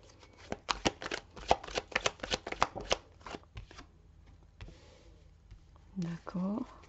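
Tarot cards shuffled and drawn by hand during a reading, giving a rapid series of crisp riffling snaps and slaps close by, with brief card handling and a short spoken remark near the end.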